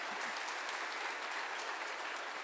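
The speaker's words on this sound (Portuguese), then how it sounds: "dá um aplauso aí para o mais novo casal da vida plena" A church congregation applauds a newly married couple, the clapping a steady, dense wash that holds evenly from start to finish at a soft, somewhat distant level.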